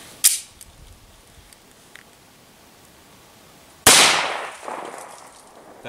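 Two sharp pistol shots from a Ruger 1911 in .45 Auto firing Hornady Critical Defense ammunition, spaced a few seconds apart, the second louder with a ringing echo afterward.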